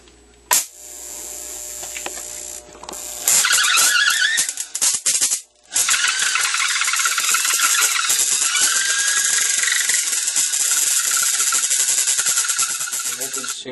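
A homemade Tesla coil with a rotating spark gap disc switches on, bursting into a loud, harsh buzzing crackle with a rattling drone that holds steady after a brief interruption.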